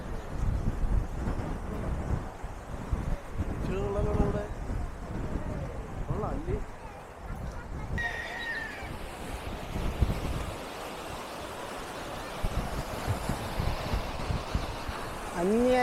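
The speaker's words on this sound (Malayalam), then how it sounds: "അന്യായ കാറ്റടി." Strong wind blowing at the seashore, a loud rumbling buffet on the microphone mixed with surf, heard throughout with people talking over it.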